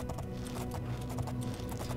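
Horse hooves clip-clopping at a steady trot while riding cross-country in Oblivion, a continuous rhythmic patter of muffled footfalls under faint game ambience.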